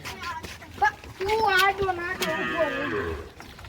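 Cattle low loudly in long drawn moos at close range as they are driven to a farm for water, with people calling and talking over them.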